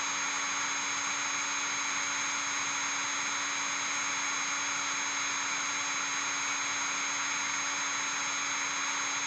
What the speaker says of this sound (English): I'm going to actually turn the drill up